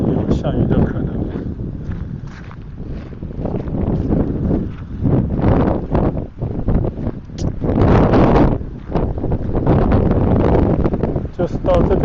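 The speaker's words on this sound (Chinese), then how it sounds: "今天天气很好啊，风很大，而且有下雨的可能。" Strong seaside wind blows across a waterfront walkway at Steveston in Richmond, a loud continuous roar buffeting the microphone with gusty swells, and a voice is faintly audible beneath it.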